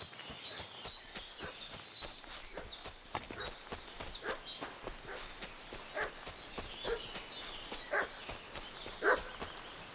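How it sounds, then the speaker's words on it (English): A dog barks repeatedly in Kingdom Come: Deliverance 2, sharp yaps at a steady pace near the village of Troskowitz, heard amid hoofbeats and footsteps. "What's that dog making such a fuss about?"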